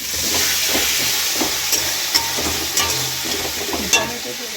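Vegetables, tomato and spices frying in plenty of oil, a steady close hiss and sizzle broken by a few sharp spatula knocks and scrapes, without voices.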